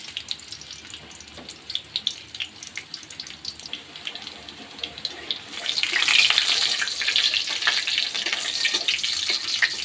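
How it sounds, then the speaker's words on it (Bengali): Garlic goes into hot oil in a wok, and a faint crackle swells into a loud, bright, splattering sizzle that keeps hissing and popping up close. "তেল ছিটছে।"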